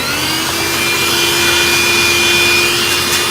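A handheld vacuum cleaner fitted with its long nozzle runs steadily and close by, giving a constant whirring hum with a high motor whine and no speech over it.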